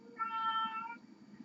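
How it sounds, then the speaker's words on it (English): An indoor cat wanting to go out gives a single drawn-out meow, clear and close, over a low steady hum, ending with a brief soft click. "Rory wants to go out, he can't"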